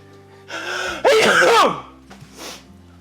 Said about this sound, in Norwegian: Og så skal jeg nyse litt.